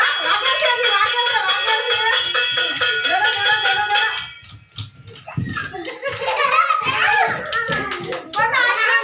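Children playing a game clap their hands in a fast, steady rhythm while their voices chatter loudly over it, then the clapping pauses briefly before the noisy mix of claps and kids' voices resumes.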